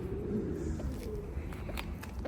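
Young racing pigeons in a coop, soft cooing and low bird murmurs at close range with faint shuffling and small scratchy movements, fairly quiet throughout.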